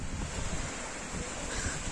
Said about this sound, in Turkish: Enes Altınkum plajındayız şu an